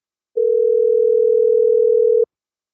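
A landline telephone dial tone plays as one steady, loud, pure hum for about two seconds, then cuts off cleanly into silence.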